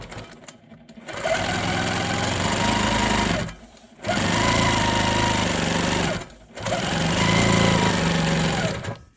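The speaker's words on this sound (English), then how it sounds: "I'm going to stitch this last piece into place before I quilt it" A Janome Quilt Maker Pro 20 long arm sewing machine stitching a quilt-as-you-go piece: three long bursts of steady, fast mechanical whirring and needle chatter, separated by short pauses, close and prominent with no talking.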